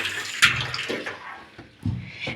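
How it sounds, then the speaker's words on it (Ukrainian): Water splashes and runs as a rabbit litter tray is rinsed under a tap, with a few irregular gushes and splashes close by and no speech. "Добре змиваємо"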